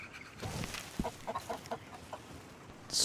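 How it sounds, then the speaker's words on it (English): A white leghorn rooster in Red Dead Redemption 2 clucks in a short run of quick, close, moderately loud notes over a soft ambient background, and a brief hiss follows at the end. "White leghorn rooster"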